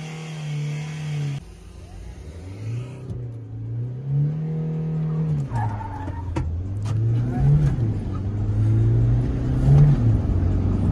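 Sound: Mahindra Scorpio S11 and Hyundai Creta accelerating in drag race launch

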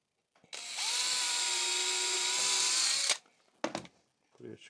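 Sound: power drill drilling a hole in scrap timber

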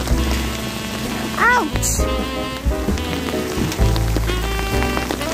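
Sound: hailstorm, ice falling

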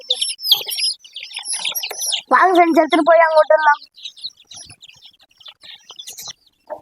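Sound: chicks chirping near mother hen

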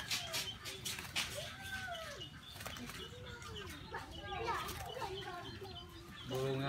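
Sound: bird

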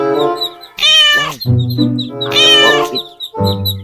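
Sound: cat meowing

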